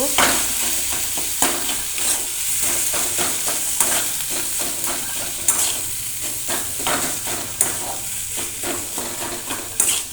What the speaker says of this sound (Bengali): এবার এই মশলার সঙ্গে ভালো করে মিশিয়ে নেব